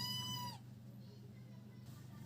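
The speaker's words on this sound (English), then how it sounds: "Please ignore my cat's voice." A house cat gives one clear, rising meow right at the start, close and fairly loud, then fades into quiet room tone with a faint noise later.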